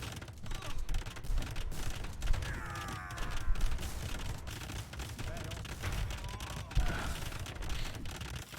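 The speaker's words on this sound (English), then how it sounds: "organ guns are now getting a kill as well" Organ guns fire during a battle in a tournament match of the video game Age of Empires II, giving scattered crackling volleys and mechanical clatter over a busy, steady game din, with no voice on top.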